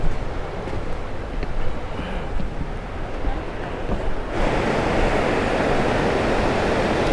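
Rushing river water at Creek Street in Ketchikan, Alaska, a broad steady roar that swells noticeably louder midway through and then holds constant.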